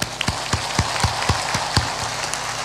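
A congregation at a spiritual satsang claps with raised hands, about eight evenly spaced sharp claps in unison, keeping a brisk steady rhythm before thinning out into looser patter.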